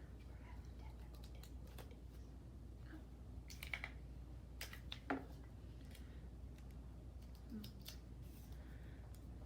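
Scissors cut paper for a bookshelf insert in quiet, scattered snips and crisp clicks over a low steady hum, close and faint, with no talking.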